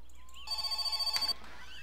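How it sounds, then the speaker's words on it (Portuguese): A house telephone in My Summer Car rings once, a loud, rapid electric bell trill lasting about a second, set against quiet background hum with faint tones before and after. "Vamos lá atender o telefone!"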